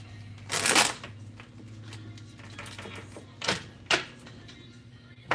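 Tarot cards are shuffled in quick riffling bursts, a loud rush near the start and two shorter flurries later, close and clear with no talking.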